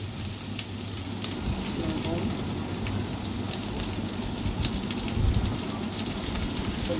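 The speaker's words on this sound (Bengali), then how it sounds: "এই পেঁয়াজগুলো একটু করে ভাজা হওয়ার জন্য অপেক্ষা করতেছি।" Onions fry in a pan with a steady, close crackling sizzle that keeps an even hissing texture throughout, with occasional faint pops.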